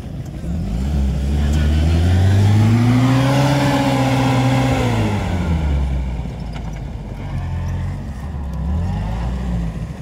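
A 4x4 SUV engine revs hard while climbing a slope off-road, its pitch rising to a loud strained peak, then falling away and dropping back to a lower labouring drone that rises again near the end.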